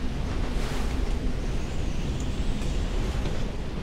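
Heavy wind howls and rushes continuously in the Dark Souls II video game, a dense low roar with gusty swells, loud and steady throughout with no talk.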